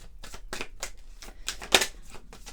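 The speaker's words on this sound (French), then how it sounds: "On va prendre quelques cartes de l'oracle des Aïcus" Oracle cards being shuffled and handled, a quick run of dry papery flicks and slaps with one sharper snap near the end, close and fairly quiet, no voice.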